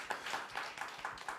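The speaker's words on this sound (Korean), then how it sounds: "여러분 박수로 환영해 주시겠습니까?" At an anniversary event of an inter-Korean cultural center, an audience welcomes a guest with quiet, rhythmic clapping: a short, faint run of regular claps.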